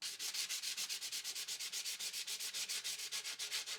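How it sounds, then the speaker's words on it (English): Rhythmic back-and-forth sanding with 100 grit sandpaper on the high spots of a hardened RC plane canopy, a steady run of close, loud scratchy strokes about eight per second with no talking. "we're ready to start sanding these high spots down"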